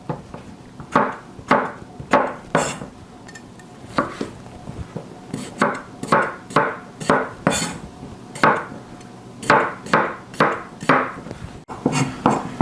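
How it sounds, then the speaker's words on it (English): A knife cuts vegetables into inch pieces on a cutting board, steady repeated chops falling in quick clusters with brief pauses, close and clear. "And then I want to cut these into about inch pieces."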